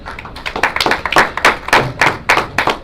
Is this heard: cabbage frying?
no